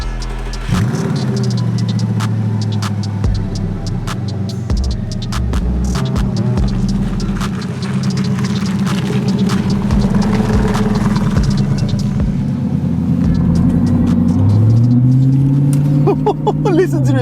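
A high-mileage supercar engine idles with a steady, throbbing low rumble and hum, fairly loud and close, then rises in pitch toward the end as revs climb.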